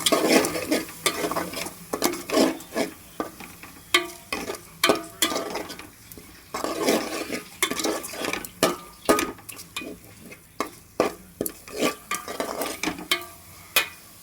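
Egg and drumstick curry stirred in a pan, with repeated wet scraping strokes in an uneven rhythm over a low simmering sizzle, close and moderately loud, with no talking.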